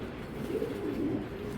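A top-quality racing pigeon cock coos close by, soft rolling low-pitched murmurs in a couple of swelling phrases over a quiet loft background.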